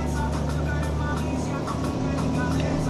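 A car driving along with a steady, loud engine and road rumble throughout, set during rain with lightning; the hum stays continuous and close, with faint voices mixed in.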